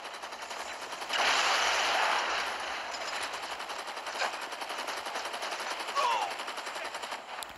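DE-45 pistol fire in the video game Gangstar Vegas: a sustained burst of gunfire around a second in, followed by a few sharper single shots over a steady background game soundtrack.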